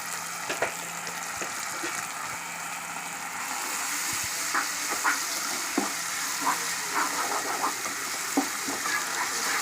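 Ginger paste cooking in hot oil with tomato and onion paste for a prawn curry, a constant loud sizzle with occasional scraping stirs and light taps of a spoon against the pan.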